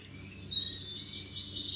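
Birds chirp and tweet in a forest with leaves rustling in the wind, a steady run of small high calls throughout, moderately near and growing fuller in the second half, with no talking.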